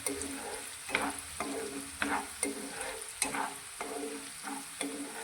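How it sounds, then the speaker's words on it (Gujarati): A spoon stirs chopped onions as they sauté in a pan for a green chickpea curry. The scraping comes in steady repeated strokes, roughly one per second, over a soft continuous sizzle, close up with no voices. "આ ડુંગળીને સારી રીતે સંતળાય ત્યાં સુધી આ રીતે હલાવતા રહીશું"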